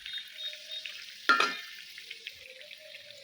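Fish cutlets frying in hot oil, a soft steady sizzle with a louder crackling burst in the middle as one is lifted or stirred, close and fairly quiet, no voices.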